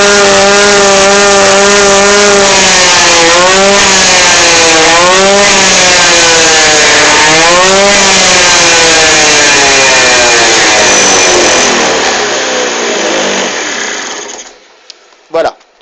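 Yamaha Aerox scooter fitted with a nitro engine, running at a loud, buzzy rev that wavers up and down repeatedly before dying away, close to the listener and with no talk over it.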